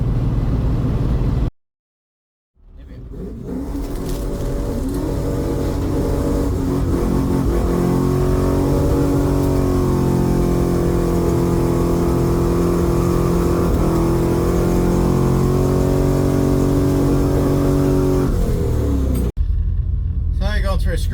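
A drag racing car on test-and-tune runs rumbles loudly and steadily, its engine note climbing through long revving sweeps after a short silent break near the start, up close and continuous for most of the stretch.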